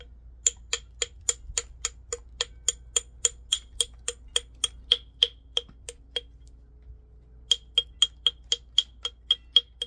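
Domed copper bopper with a tape-and-pipe cap, no lead, striking flint to thicken a piece's edges: steady sharp clicking taps, roughly two per second, crisp and close, with a brief pause midway.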